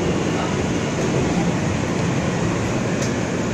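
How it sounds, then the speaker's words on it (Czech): A newer electronic New York subway train rumbles along from inside the car, a constant loud roar and hum with faint high whines and no talk. "My jedeme teď novější soupravu, která už je elektronická"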